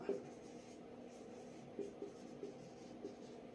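A pen writes on paper, producing faint, soft scratching strokes with a few slightly firmer taps against a quiet room hum.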